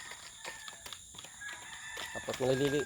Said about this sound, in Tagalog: pagkatapos ko ng patukan sa mga manok